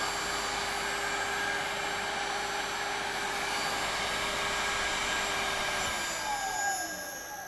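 A three-phase electric motor driven by an MJB 2.2 kW variable speed drive runs steadily at high speed with a constant whine and hum, then slows down near the end; no one speaks.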